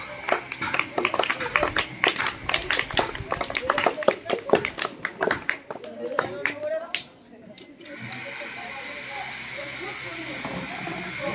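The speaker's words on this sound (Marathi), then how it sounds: "जोरदार टाळ्या वाजवून आपण त्यांचं स्वागत करूया" At a school event, an audience of students claps to welcome a guest. A burst of loud, dense applause fades after several seconds into quieter room hiss.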